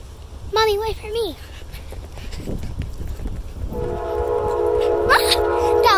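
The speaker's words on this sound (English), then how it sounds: "Ah, the loud train!" A loud train rumbles past with a steady roar, its horn sounding in sustained tones near the end, while a voice rises above it early on.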